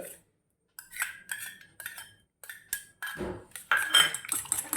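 A spoon clinks and scrapes against a bowl while omelette ingredients, including pepper powder and chopped onion, are mixed, the strokes coming in quick irregular bursts that grow busier and louder toward the end.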